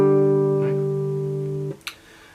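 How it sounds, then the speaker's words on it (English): Guitar playing the opening of a theme with the fourth and third strings plucked open together, one sustained chord ringing steadily for over a second and a half before being muted, followed by a faint scrape. "it's simply just playing the 4th string and the 3rd string open together"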